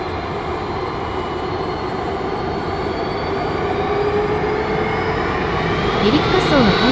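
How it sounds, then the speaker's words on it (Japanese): A JAL Boeing 767-346ER (JA615J) begins its takeoff roll on runway 08 at Takamatsu Airport. Its engines give a loud, steady roar that swells slightly as it builds. "離陸滑走が開始されました。"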